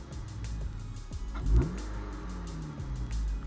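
A 2015 Honda Civic sedan engine fitted with a K&N cold air intake rumbles close by and revs up briefly, with a deep whooshing intake note, then drops back to a low idle.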